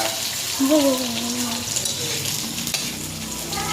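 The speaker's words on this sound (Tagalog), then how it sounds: "we're gonna cook this. Matan mo ha, baka matalsik ka man ng mantika." Food frying in hot oil in a home kitchen, a steady broadband sizzle running throughout with occasional stirring clatter, while a person speaks briefly over it near the start.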